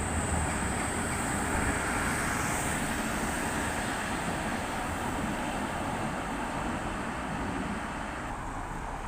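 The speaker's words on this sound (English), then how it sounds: "T15 tram now, 9301." A Tatra T15 tram passing on a Prague street, heard as a steady, loud broadband rumble and rolling hiss that holds throughout and eases slightly toward the end, with no voices.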